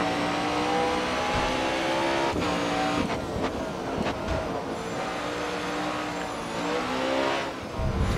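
A race car in the Grid Autosport street challenge racing game, its engine howling and shifting through gears under hard acceleration, with brief tire squeal and skidding as it fights for grip through corners.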